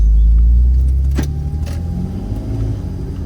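Inside a car pulling away from a house, a low engine rumble dominates, fading slightly as the vehicle moves off, with faint rattles and a light click over the steady hum.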